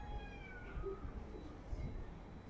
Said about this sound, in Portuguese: Tem um gato ali, inclusive.